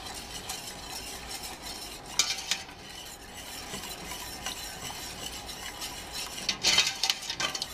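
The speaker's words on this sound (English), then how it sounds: "And stir." A spoon stirs milk into a pot of Cajun cheese sauce on the stove, giving a steady scraping swirl with a faint sizzle beneath and a couple of brighter clinks against the pot's side.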